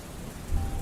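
Steady rain in a misty grove pours down as a continuous broadband hiss, with a low rumble swelling near the end that may be distant thunder.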